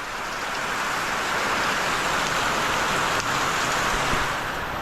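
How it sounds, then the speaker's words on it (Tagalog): Heavy rain pours in a constant, full roar, steady throughout, with a faint rumble underneath and no one speaking. "ayun ang lakas mga kanaypi yung ulan"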